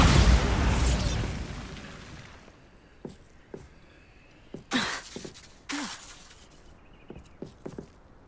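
A Bombarda spell explosion in the video game Hogwarts Legacy: a loud opening blast that fades into a long rumble, followed by scattered pops and debris crackles.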